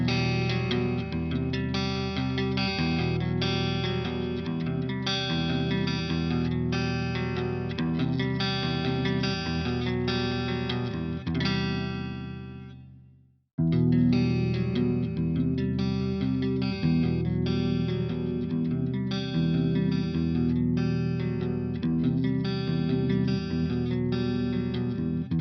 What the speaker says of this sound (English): the first tone comparison between the clean tones on the Fluff 2C Plus and the Neural DSP